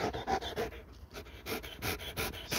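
A dog pants heavily and rapidly up close, its quick rhythmic breaths running steadily with no voices around.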